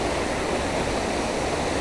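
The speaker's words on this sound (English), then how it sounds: "It's like a beautiful waterfall," A loud, steady rush of a waterfall on Broad Run creek in Manassas, Virginia roars continuously, close and full, with no other sounds.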